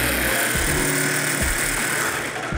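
Student-built solar sprint model car running after repairs with new batteries and changed spacers, giving a continuous loud buzzing motor whine with a rough, rattling texture throughout.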